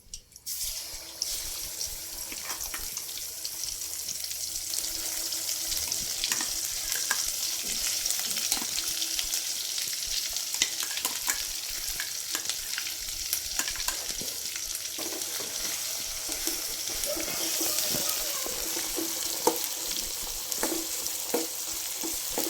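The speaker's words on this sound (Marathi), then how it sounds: "छान असं परतून घेऊ. ते थोडं लाल होईपर्यंत." Paneer masala gravy sizzles and fries steadily in oil with cumin in a kadhai, with frequent scraping stirs of a spoon against the pan over 22 seconds and no talk.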